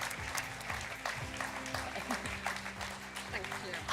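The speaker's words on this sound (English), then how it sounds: "This evening, a massive round of applause." Audience applause at a youth work excellence awards ceremony in 2023, a sustained wash of clapping from a crowd with a voice speaking over it throughout.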